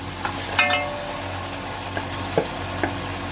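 About a kilo of boiled beef fries in a pot for yakhni pulao, a steady low sizzle with a few sharp clinks and scrapes of a spoon stirring, close and without talk.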